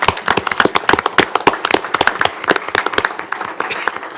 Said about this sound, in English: Let's give them a warm round of applause for our Hawks.